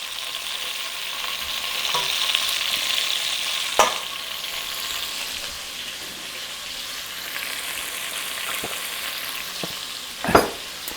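Chicken sears in a hot pan with a continuous close sizzle, broken by a few sharp scrapes and clatters, one louder near the end.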